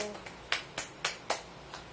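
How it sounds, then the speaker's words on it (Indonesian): In a school classroom, a small group of students claps after a group presentation: about six sparse, separate hand claps spaced unevenly, fairly close and quiet, with no talking. "Tepuk tangan dong."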